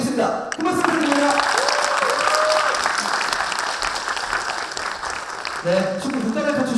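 An audience claps steadily to welcome Kim Byung-ji, a former national football goalkeeper, onto the stage at a health talk concert. The applause is dense and sustained, with a host's voice speaking over it at the start and end.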